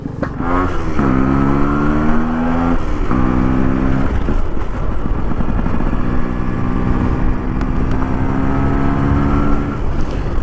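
A restored Yamaha RX135 motorcycle engine runs loudly and close after a clutch adjustment, with a steady throbbing idle and a couple of rises in pitch as it is revved.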